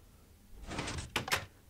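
In Minecraft, a door activating to push an item up makes a short whooshing shuffle followed by two sharp wooden clacks close together, near and clear against quiet surroundings.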